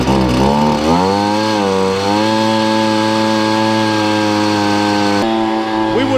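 A leaf blower runs loud and close with a harmonic engine drone, revving up early and then holding a steady high whine until cutting off near the end.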